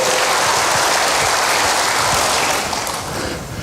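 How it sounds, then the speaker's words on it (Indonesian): A church congregation claps together in praise, a thick, loud, sustained burst of applause that eases a little toward the end. "Berikan tepuk tangan bagi Tuhan, haleluya."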